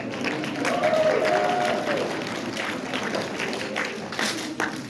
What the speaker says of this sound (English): Give a round of applause so far.